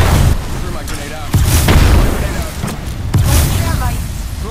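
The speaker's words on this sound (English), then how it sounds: "Threw my grenade out." A frag grenade explosion in the video game Apex Legends, with a couple of loud booming bursts among gunfire and other game sounds; a person talks over it.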